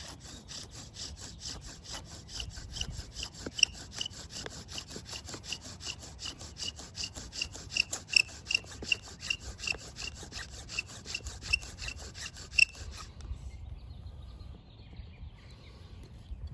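A Virginia pine bow drill with a T-shirt bowstring spins rapidly to make an ember, giving rhythmic back-and-forth squeaking and sawing strokes up close, steady for about thirteen seconds before the friction sound drops away.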